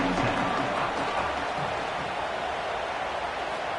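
Crowd noise from a PS5 football video game after a punt return, a dense, loud, continuous roar of cheering and applause that holds steady throughout.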